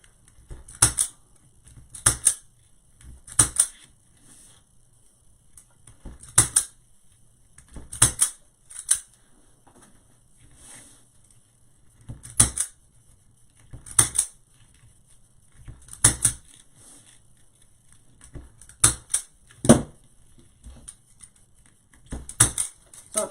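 A zip tie gun fires again and again while fastening deco mesh onto a large wreath board, giving sharp, close clicks and snaps in irregular bursts with quiet pauses between them.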